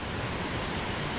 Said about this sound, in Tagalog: So you can hear the waterfalls from here. It's getting louder.